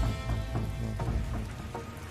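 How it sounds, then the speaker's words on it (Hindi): Steady rain pours down on a stormy day, a dense close patter of drops hitting surfaces throughout with no voices. "बारिश में हम तो पूरी तरह से भीग गए।"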